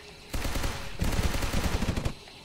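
Rapid automatic gunfire from an aircraft's guns in the video game Sky Rogue, two dense bursts of fast rattling shots, loud and continuous, with no voice over them.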